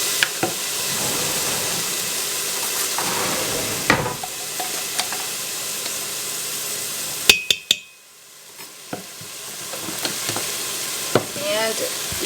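Rice and garlic sizzling in a hot pan while being stirred, a loud steady frying hiss with scraping and clinking from the utensil against the pan, plus one sharp clatter near the end.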